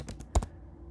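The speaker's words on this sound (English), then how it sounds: "I can type on my computer keyboard to" A computer keyboard used as a controller for a Pure Data patch gives a quick burst of three or four sharp key clicks up close, followed by quiet.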